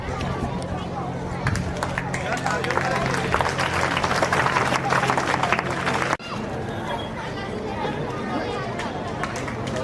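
A village gathering's audience claps and cheers to welcome a guest, with dense, steady applause mixed with crowd chatter that drops off sharply around the six-second mark, then continues as softer background hubbub.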